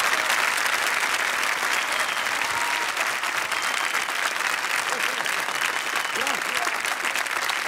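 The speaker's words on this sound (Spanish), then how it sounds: "vamos a brindarle ese mismo aplauso, así tan fuerte, tan cariñoso" A studio audience at a 1985 Latin American television show gives loud, sustained applause, thick continuous clapping filling the room with faint crowd voices beneath.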